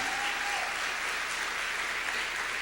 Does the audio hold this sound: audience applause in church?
yes